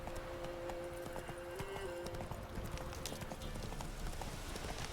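Roach, a horse in The Witcher 3 video game, trots with steady, clear clip-clop hoofbeats close by, alongside a sustained tonal game sound and a low ambient bed.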